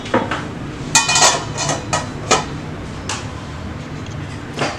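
A metal lid is set on a cooking pan of sweet appam, producing several sharp clanks and clinks of metal on metal at irregular intervals over a steady low kitchen background.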